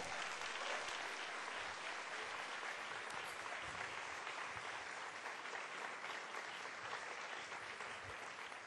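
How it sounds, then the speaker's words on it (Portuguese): A church congregation applauds the Lord during a service, a dense, even roar of many hands clapping at once that stays steady throughout without any speech over it. "dê um aplauso ao Senhor"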